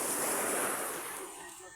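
Sea waves washing onto a beach, a loud broadband surf rush that swells then gradually eases, with no talking.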